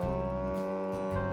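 A cow moos in a long, sustained, fairly loud and steady bellow with rich harmonics, heard alone with nobody speaking.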